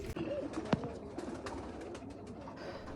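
Black teddy pigeons coo softly in a home loft while feeding two chicks together, a low murmuring coo with brief chirps over light background noise.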